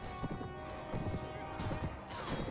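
Horse hooves clatter in irregular beats during a mounted battle in the video game Mount & Blade: Warband, with a whinny and scattered impacts mixed in, along with faint voices.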